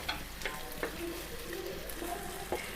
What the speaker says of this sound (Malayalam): ഇനി സവാള ഒന്ന് ഒന്ന് വരളട്ടെ